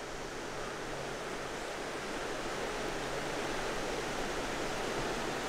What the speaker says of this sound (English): little creek right here, this spring water in it.